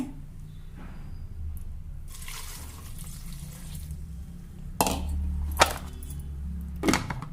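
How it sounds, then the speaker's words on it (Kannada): Coconut milk pours into muskmelon juice, a soft liquid stream with gentle splashes and a few louder bursts of flow later on, close and quiet, with no talk. "ತೆಂಗಿನಕಾಯಿದ ಹಾಲು ತೆಗೆದ್ನಲ್ಲ ಇದನ್ನು ಹಾಲು ಹಾಕ್ತೇನೆ"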